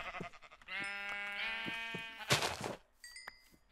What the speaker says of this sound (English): there's a sheep behind me